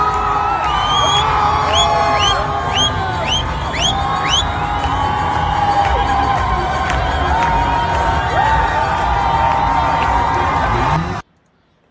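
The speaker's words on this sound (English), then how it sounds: "massive crowds of Iranians are cheering, car horns, waving flags" Massive crowds of Iranians cheer and shout outdoors, a dense roar of voices with repeated whistles or horn-like toots over the top, loud and continuous before cutting off abruptly near the end.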